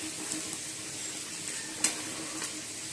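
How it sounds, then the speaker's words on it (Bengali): Flattened rice and potatoes fry in a pan with a steady, soft sizzle, stirred now and then, with a brief sharp clatter near the end and no talking. "এই যে চিড়ে আর আলুগুলো ভেজে নিচ্ছি"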